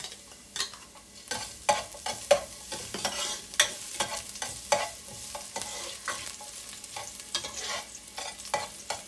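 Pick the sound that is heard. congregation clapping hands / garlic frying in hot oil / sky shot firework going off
garlic frying in hot oil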